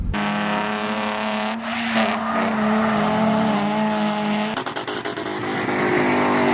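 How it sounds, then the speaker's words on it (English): A squealing clutch on a BMW E36 drift car, needing a throwout bearing, whines steadily beneath the running engine for the whole stretch, loud and close, with a short dip and shift midway. "The clutch is, if you can hear that squealing, definitely needs a throwout bearing and probably a new clutch"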